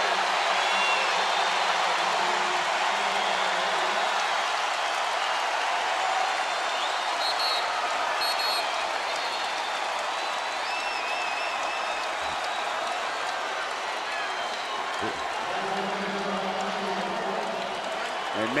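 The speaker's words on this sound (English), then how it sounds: "Crowd on its feet." A basketball arena crowd roars in a steady, dense wash of cheering and applause during the Baylor Bears vs Iowa State Cyclones game, loud and continuous for the whole stretch.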